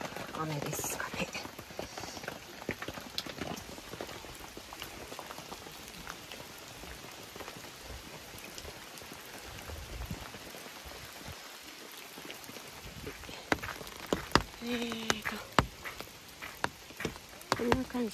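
Autumn rain falling at a lakeside campsite on Lake Towada, a steady soft patter of drops hitting surfaces throughout, with sharper close drips near the end and a voice speaking quietly at times.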